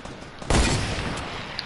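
A single loud gunshot in a video game, a sharp blast followed by a long, decaying rumble, with no talking.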